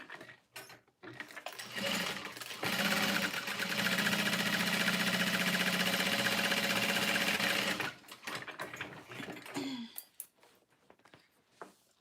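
Sewing machine stitching fabric panels together, running in a steady rapid mechanical whir for about five seconds, preceded and followed by brief clicks and handling noises.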